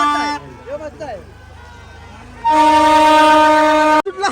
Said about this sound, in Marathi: ट्रेन आली.